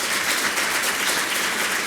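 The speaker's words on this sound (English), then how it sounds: "So we'd like to give them a round of applause as well," Audience applause for the speakers at a sustainability leadership event in DC, a steady, even wash of clapping filling the whole stretch at moderate level without pause.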